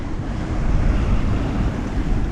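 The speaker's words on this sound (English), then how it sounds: "See the wind's pumping close to 25, 26 plus minus knots." Strong wind blows at sea, about 25 knots, aboard a sailing yacht off Cape Town near Robben Island. It makes a steady, loud rushing roar without a break.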